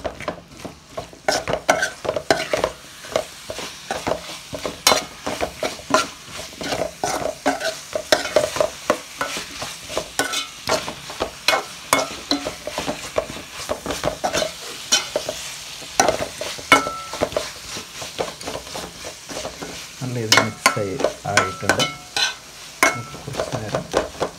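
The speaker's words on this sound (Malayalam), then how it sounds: "ഇത് നല്ല രീതിയിൽ മസാലയിൽ മിക്സ് ആവുന്ന രീതിയിൽ ഇളക്കി കൊടുക്കാം" A spoon stirring vegetable curry with potatoes through masala in a pan, with repeated scraping strokes and light clatter over a soft sizzle, continuing steadily for a long stretch up close.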